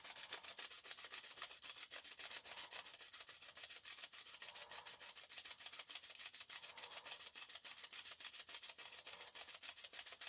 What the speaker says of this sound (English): I place my pinky finger here to stabilize the other end of the film while I ratchet onto the